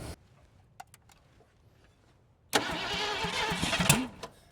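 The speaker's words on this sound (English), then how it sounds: "Still backfiring through the carb." A 1979 Ford Mustang Ghia Foxbody, abandoned for over twenty years, sits mostly quiet with a few small clicks, then its engine cranks loudly for about a second and a half and gives a couple of pops as it backfires through the carburetor.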